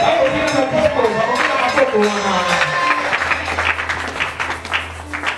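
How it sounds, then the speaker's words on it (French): A church congregation at a thanksgiving service and consecration of deaconesses bursts into loud, dense applause with cheering acclamation and voices, a sustained crowd sound that carries on through the clip with a low hum underneath. "Est-ce qu'on peut acclamer pour les hommes de Dieu qui sont parmi nous?"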